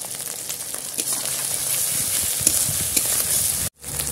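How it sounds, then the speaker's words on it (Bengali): Ginger garlic paste, green chilli paste and chopped tomato frying with onion for a Bengali katla fish kalia: a loud continuous sizzle with constant stirring and scraping, close up, broken by a brief silence near the end, with no voices. "দিয়ে দেবো আদা রসুন বাটা, কাঁচা লঙ্কা বাটা, দিয়ে দেবো ছোট ছোট করে টমেটো কুচি"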